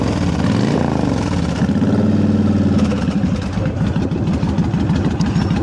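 A 2005 Honda VTX1300C cruiser motorcycle with 11,701 miles idles up close, its V-twin engine producing a loud, steady, loping rumble that fills the whole stretch without talk.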